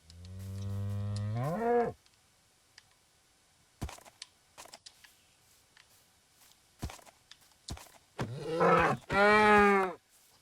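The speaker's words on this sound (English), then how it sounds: "It's a donkey." A Minecraft donkey gives two braying calls, one opening rising hee-haw and a louder two-part bray near the end, separated by a stretch of near silence broken only by a few short clicks and taps.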